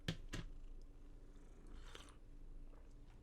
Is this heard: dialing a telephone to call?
no